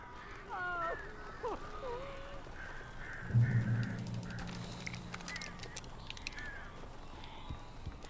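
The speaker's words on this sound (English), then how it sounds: "These birds are weird." Crows caw in the Alan Wake video game: a few harsh calls come early, then faint flapping and rustling over a low, eerie ambient background.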